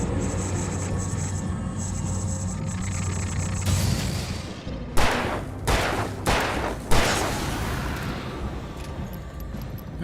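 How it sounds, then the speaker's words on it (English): Gunfire in the video game Alan Wake Remastered, where rapid loud shots crack in several bursts over a rumbling background drone, following a few seconds of steady ambient game noise. "oh, it's just shooting ghosts again."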